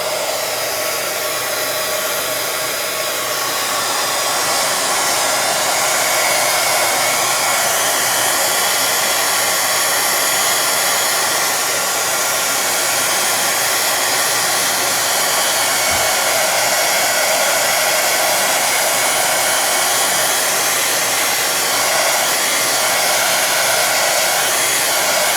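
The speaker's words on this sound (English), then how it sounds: "I'm going to use my heat gun to dry this just a little bit before we cut it." A heat gun drying a paper craft project blows a loud, steady, close roar of hot air, unbroken for the whole stretch with no talk over it.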